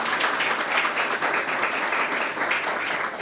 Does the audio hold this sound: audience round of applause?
yes